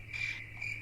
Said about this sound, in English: Yes, I played the crickets.